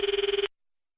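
A phone rings unanswered in a quiet room, one short buzzing electronic ring burst that cuts off abruptly, heard alone and close.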